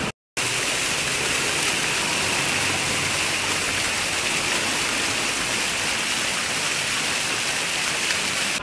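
Water pours steadily from a pink fountain in Sanremo, Italy, a loud, continuous close rush that starts after a brief silence and holds without pause, with no voices over it.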